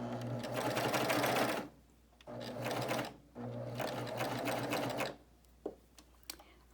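A Baby Lock Euphoria coverstitch sewing machine stitching fabric runs in three loud, steady bursts separated by short pauses, its motor hum and rapid needle rhythm close by, ending with a few soft clicks.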